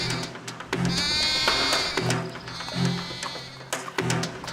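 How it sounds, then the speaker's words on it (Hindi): A goat bleats repeatedly at night, several wavering cries in a rough rhythm, close and fairly loud, with other noisy sounds around it. "ये आवाज कहां से आ रही है? लगता है कोई बकरी फंस गई है"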